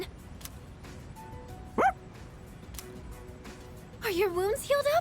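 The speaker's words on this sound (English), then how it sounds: "That dog has a collar." A winged, collared dog in the Persona 3 Reload video game gives one short yip, then a longer run of high whining yelps, heard over quiet game ambience.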